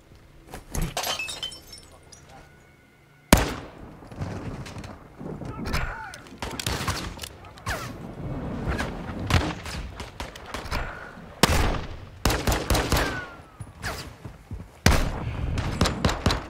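Unsilenced gunfire in Call of Duty Modern Warfare 2, loud sharp shots in bursts and single cracks, with impacts and breaking debris scattered through a busy combat mix.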